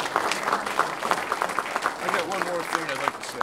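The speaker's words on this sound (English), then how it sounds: "Let's give these two gentlemen a good round of applause" An audience at a community planning and economic development class applauds at moderate volume while someone speaks over the clapping.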